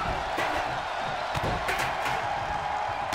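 Arena crowd at a women's triple threat wrestling match at WrestleMania roars steadily, a dense wash of cheering and whooping with a few sharp claps or slams standing out.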